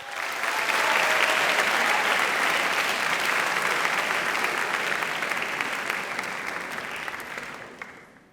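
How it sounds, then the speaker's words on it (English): Audience at a high school assembly in an auditorium applauding a new associate principal walking on stage, a dense, sustained burst of clapping that holds steady for several seconds and then tapers off. "I'd like a round of applause as he comes up on stage"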